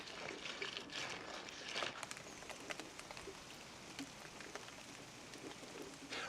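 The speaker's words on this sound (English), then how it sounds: "while the rain is still falling outside" Rain falls outside a garden potting shed, a soft continuous patter with scattered sharper drips against the roof and surfaces, steady and gentle, with no voices.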